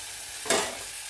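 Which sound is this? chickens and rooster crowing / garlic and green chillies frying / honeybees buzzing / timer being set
garlic and green chillies frying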